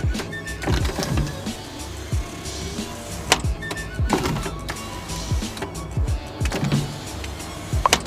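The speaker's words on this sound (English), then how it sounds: "You want to try the sunroof? See what happens." Electric sunroof motor on a project car opening, a whirring motor hum running through the clip with a few clunks and clicks, close by with no talk.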